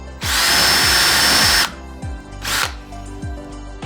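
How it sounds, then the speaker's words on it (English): A power drill with a 13/64-inch bit bores a hole through a door during a latch installation, giving one long, loud, high whine followed by a shorter second burst, with soft background music underneath. "First, drill a hole using a 13/64" drill bit."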